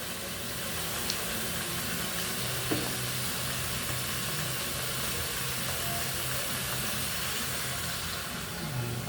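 Fish sauce goes into a hot pan of cooking food, giving a steady, even sizzle and frying hiss with a few light clinks from stirring, moderately close and with no talking.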